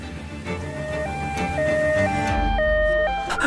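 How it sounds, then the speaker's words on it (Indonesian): An ambulance siren wails in a steady alternating two-tone pattern, loud and close, with a low rumble rising toward the end and no talk over it. "Ambulan sudah tiba."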